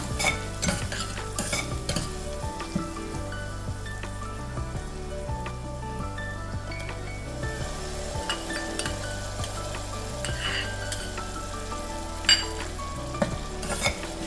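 Onion sautéing in a pan with spice paste being added and stirred for a Navratri khichda, a steady sizzle with repeated spoon scrapes and clinks throughout, close and fairly loud, no voices.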